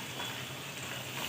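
Potato slices fry in hot cooking oil, giving a steady, dense sizzle that holds at an even level throughout with no pauses.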